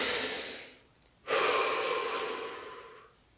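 A single deep breath, drawn in audibly, a short pause, then a long, steady exhale trailing off, close and alone in a quiet guided relaxation session.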